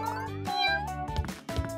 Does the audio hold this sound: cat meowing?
yes